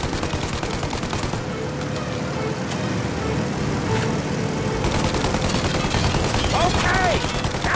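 Gunfire in Mafia Definitive Edition, a dense continuous crackle of shots over roaring engine and road noise, with shouting voices over the din.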